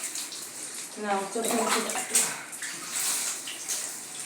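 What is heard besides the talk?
water being poured during hair washing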